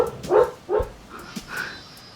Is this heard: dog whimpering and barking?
yes